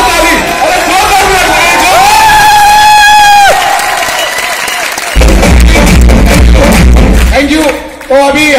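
Crowd clapping and cheering loudly in an indoor meeting hall, a dense burst of applause with shouts, following and partly under a man's amplified speech.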